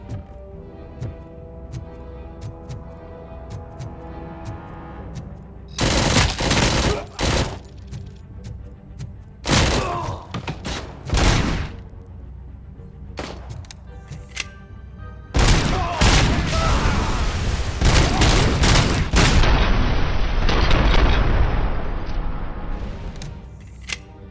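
Loud bursts of gunfire in the Robocop: Rogue City video game, with heavy booming shots and volleys separated by short pauses over a low rumbling background.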